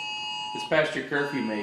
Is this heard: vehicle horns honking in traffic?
no